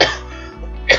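Two rough coughs from one person, close to the mic, with a short gap between them.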